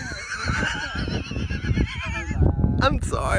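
A horse whinnies with a wavering, drawn-out neigh over steady hoof and movement noise, while people talk nearby and the sound cuts off near the end.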